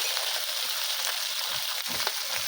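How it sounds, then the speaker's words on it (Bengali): Ripe red chili paste fries in a pan for a small-fish curry, a steady bright sizzle with soft stirring scrapes near the end. "একটু লাল করে ভেজে নেব"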